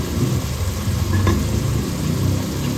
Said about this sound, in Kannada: ಎಣ್ಣೆಯಲ್ಲಿ ಒಂದೆರಡು ನಿಮಿಷ ಫ್ರೈ ಆಗಲಿ ಮಸಾಲೆ